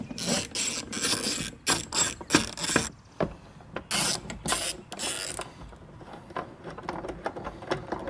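Ratchet clicks in quick bursts while T30 screws come out of a Porsche Cayenne 958 rear door, close and crisp with short pauses between runs and fainter fiddling at the end.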